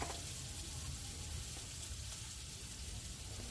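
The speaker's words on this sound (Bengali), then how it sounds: "সেই কুচি পেঁয়াজগুলো তেলে দিয়ে দিলাম" Chopped onions frying in oil in a pan while cooking spicy sea crab: a soft, steady sizzle that holds evenly throughout, quiet and alone.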